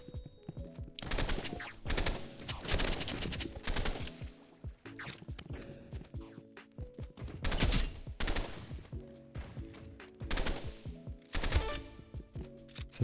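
Burst-fire weapons crack out in a first-person shooter video game, with repeated short volleys of rapid shots at uneven intervals, punchy and fairly loud, mixed with lighter clicking between bursts.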